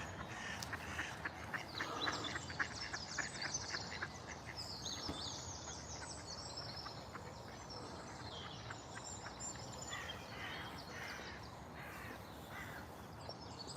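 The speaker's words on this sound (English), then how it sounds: "There were a couple of ducks, I believe, just flying up in the distance." Ducks quacking and calling at a distance by a reservoir on an urban walk, mixed with crow-like caws, steady and moderately faint over outdoor ambience for the whole stretch.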